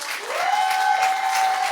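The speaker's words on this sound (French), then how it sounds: "Je voudrais qu'on applaudisse le public." Audience applause at a slam poetry tournament in Nice, steady and moderately loud for under two seconds, with a faint sustained tone running through it.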